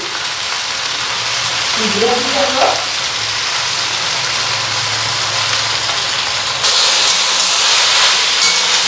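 A loud, continuous sizzle of food frying in a pan, hissing steadily throughout, with a brief voice cutting in early on.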